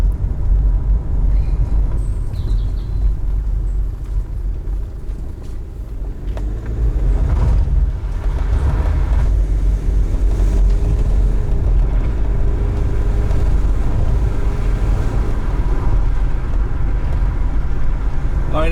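BMW 120D diesel hatchback driving on the road, heard from inside as a continuous low engine drone and road rumble with tyre noise, steady and fairly loud throughout.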